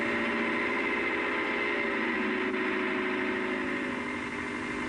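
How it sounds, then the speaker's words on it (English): Engine of a 55-horsepower Leyland 344 tractor hauling a Bamford Kverneland four-furrow 14-inch plough: a steady, continuous mid-range drone with a constant throb, holding even loudness throughout with no voices. "The Leyland 344, the 55 horsepower tractor, pulling a Bamford Kverneland's 4-furrow 14-inch plough"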